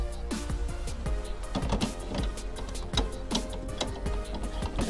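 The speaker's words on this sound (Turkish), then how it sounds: "Açalım tekrar makinemizi. Yazıcımızı daha doğrusu." An inkjet printer switched back on with a cartridge inserted runs its mechanism, a steady close motor whir with repeated ticking and clicking carriage movements throughout.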